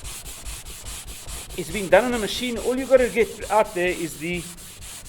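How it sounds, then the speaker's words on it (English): Hand sanding of a wooden dulcimer guitar body, with steady back-and-forth rubbing strokes heard close up while someone talks over them. "So you get in here and you give this thing a good sand like that."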